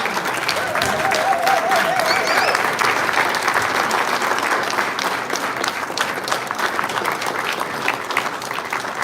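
Sustained audience applause fills a public gathering in Burkina Faso as a guest is welcomed on stage, a dense, steady roar of many hands that stays loud throughout with a faint whistle early on.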